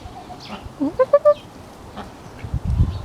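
Ducks give a short run of quacking calls in a backyard garden, a few clear honks in quick succession near the middle, then a louder rustling thump toward the end, with faint background noise throughout.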